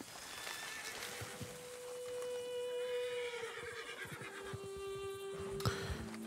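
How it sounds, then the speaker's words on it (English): A spooked horse in the video game Red Dead Redemption 2 lets out a long, shrill whinny, with a second shorter neigh near the end over faint ambient outdoor noise. "You spooked the horse."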